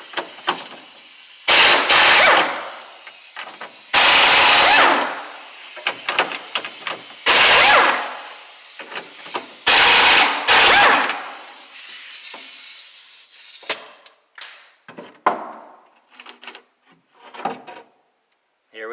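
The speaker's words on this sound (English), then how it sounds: "remove these bolts that are holding this plate on here, or actual shifter" Bolts are backed out of the shifter plate of a 1968 Mustang, heard as loud bursts of ratcheting or power-driver whirring repeating about every two and a half seconds, followed by scattered clinks and handling noises up close.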